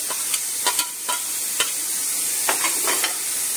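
White peas bhaji sizzling in a pan as coriander stems go in, a steady frying hiss with a few light stirring scrapes and taps, close and alone.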